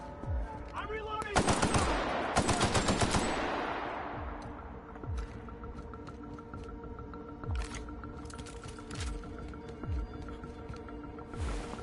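Automatic gunfire in the video game The Outer Worlds comes in loud rapid bursts early on, followed by quieter repeated single shots and game effects over a steady background hum.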